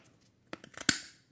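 Scissors cut through thick kraft paper in a few quick close snips, ending in one sharp crisp cut.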